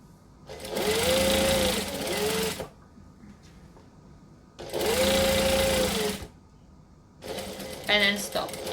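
A sewing machine stitches a McCall's M7314 dress in three loud, steady runs separated by short pauses, the motor whine holding level through each burst.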